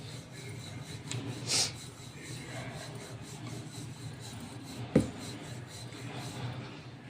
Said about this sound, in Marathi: अशी पोळी लाटून घ्यायची आहे गोळ्याची